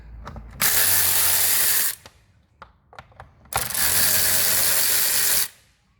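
Air filter housing bolts on a Mini Cooper are undone with a power ratchet in two long, loud buzzing runs of about a second and two seconds, separated by a few small clicks and knocks.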